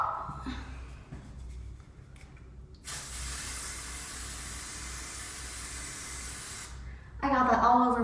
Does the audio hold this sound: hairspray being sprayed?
yes